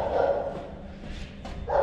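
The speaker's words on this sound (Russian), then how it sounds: "Че ты лаешь? Че лаешь? Лает. Че залаял?" A dog barks twice indoors, with short, fairly loud woofs near the start and the end separated by a quieter pause.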